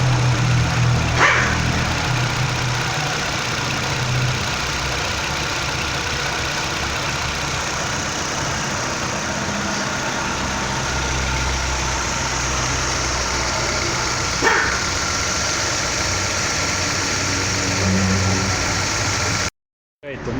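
Chevrolet Prisma 1.4 engine idling smoothly after a spark plug change, a steady continuous hum running throughout at close range, with a faint barking dog and a couple of brief knocks in the background.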